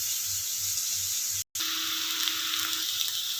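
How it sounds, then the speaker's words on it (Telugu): Onion pieces frying in a pan for potato curry, making a steady close hiss and crackle of hot oil that continues without a break apart from a brief cut in the middle. "ఇలా అయితే వేగనివ్వాలండి"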